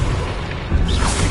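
A Confringo spell explodes in a Harry Potter video game, a loud deep boom that swells and rumbles across the short burst, with no talk over it.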